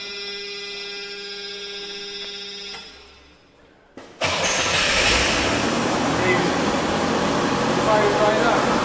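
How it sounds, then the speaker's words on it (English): A 1969 Corvair's steady electronic warning buzzer stops, a brief quiet follows, then the engine cranks and catches, settling into a loud, steady idle rumble. "That's what a new Corvair would have sounded like."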